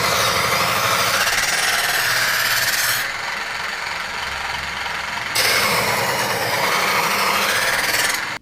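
An electric knife sharpener motor grinds a knife blade with a loud, harsh buzzing whine. The grinding pauses for about two seconds while the motor keeps humming, then resumes at full strength, heard close and alone.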